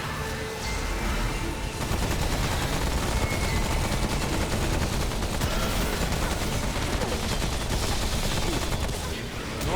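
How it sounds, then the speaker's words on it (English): Continuous, loud gunfire from a shooter battle in Remnant from the Ashes, a dense, unbroken stream of overlapping shots and impacts sustained throughout, with no pauses. "Right then, let's do some shooting."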